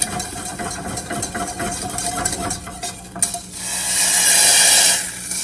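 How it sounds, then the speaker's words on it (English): A spoon stirs a thickening sauce in a pot on the stove, scraping and sloshing steadily, then a brief clatter and a louder hissing sizzle near the end. "We're going to stir that in and we're going to let it go until it gets nice and thick"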